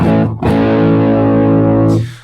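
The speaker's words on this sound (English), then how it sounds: "here I have a Ibanez Tube Screamer, pretty classic pedal. I'm gonna just flick it on." Electric guitar through an Ibanez Tube Screamer overdrive pedal, a loud sustained distorted chord that rings out after a quick pick and then cuts off, played alone.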